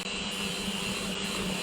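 Electric hand whisk runs in cupcake batter, a steady loud motor whine with a low hum, unbroken throughout and heard up close without talk.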